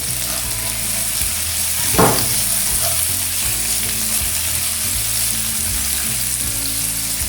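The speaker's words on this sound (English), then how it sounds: "You can stir the onions frequently. Until the onions become translucent." Onions frying in a pan with a steady loud sizzle, stirred now and then with scraping and clattering, including one sharper knock near the middle.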